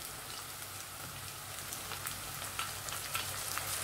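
Chopped tomato sautéing in a pan for a side dish, giving a steady, close hiss of frying with faint crackles and soft pops throughout, no voices.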